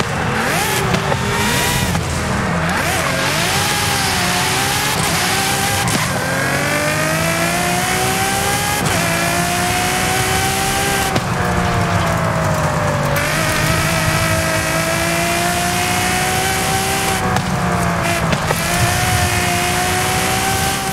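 A Ferrari Dino in the racing game Forza Horizon 5 revs loud and close, its engine note climbing and dropping through repeated accelerations and gear changes for a sustained stretch, with no voices over it.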